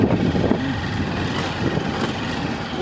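Motorcycle ridden along a dusty, rough road torn up by tipper trucks, its engine rumbling continuously at moderate loudness with uneven bumps and rattles.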